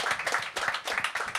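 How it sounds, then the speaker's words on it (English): A short burst of audience clapping at a music-industry panel seminar, with individual claps distinct in a quick, uneven rhythm, fairly close and loud. "Round of applause for everybody."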